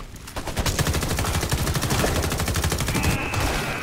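Rapid pistol fire from the video game Homefront: The Revolution cracks out in a dense, fast burst of shots lasting several seconds, loud and close with no talking.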